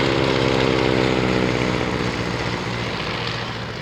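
A propeller aircraft drones past at the Shuttleworth evening air display, its steady engine hum loud at first and then slowly fading as it moves away, with no talking.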